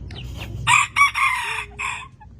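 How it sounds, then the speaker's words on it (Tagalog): A chicken crows close and loud, in several strong bursts over a faint background. "Where did you get this chicken again?"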